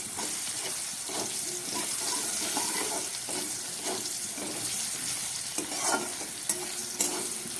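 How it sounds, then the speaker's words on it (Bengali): Bitter gourd coated with salt and turmeric deep-fries in oil, giving a steady, dense sizzle with occasional stirring and spattering crackles throughout. "উচ্ছেটাকে আমি খুব ভালো করে একদম ছাকা তেলে ভেজে নিলাম"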